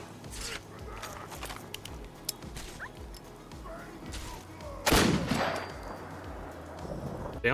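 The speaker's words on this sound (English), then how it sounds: "This mod adds a Civil War era musket into the game, and oh boy is this thing sick." Civil War era musket in Fallout 4, a single loud, booming shot partway through, rising out of low background game ambience and scattered small clicks.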